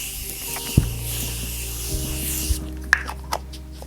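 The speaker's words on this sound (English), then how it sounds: "this is the Morphe Continuous Setting Spray" Morphe Continuous Setting Spray misted onto a face, a steady close hiss lasting about two and a half seconds, followed by a few light taps and clicks.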